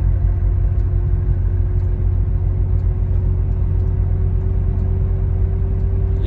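Vehicle pulling away slowly on the BR-153 highway leaving Araguaína, Tocantins, with a steady, loud low engine rumble and a constant hum throughout, no talking.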